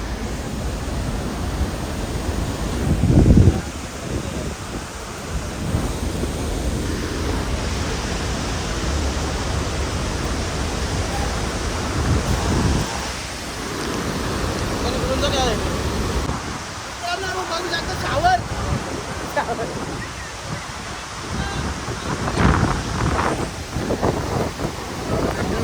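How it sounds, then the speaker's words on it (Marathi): Waterfall in Kerala roars as a steady, broad wash of falling water close by, with people talking over it and occasional louder bursts. "वॉटरफॉल आपल्या जवळ डायरेक्ट आपल्या जवळ."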